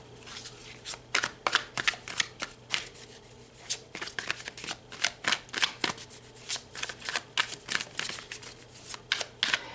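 Tarot cards are shuffled close by in a steady series of quick riffling bursts, each a crisp flutter of paper, continuing for nearly ten seconds with no talking.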